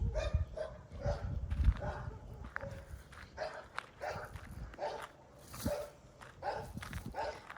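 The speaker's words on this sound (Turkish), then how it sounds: "Bakın bu da komşumuzun köpeği Gofret." A dog barks repeatedly in short bursts at a moderate distance, with footsteps and some voices in the background.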